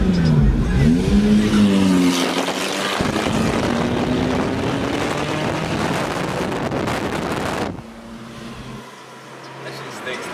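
A car engine roars and revs loudly up close, pitch rising and falling, then drops to a lower rumble near the end.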